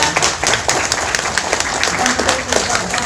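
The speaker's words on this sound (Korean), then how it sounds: "큰 박수 부탁드립니다." Brisk, dense clapping from a crowd at a plaque unveiling ceremony, steady and fairly loud throughout, with some voices mixed in.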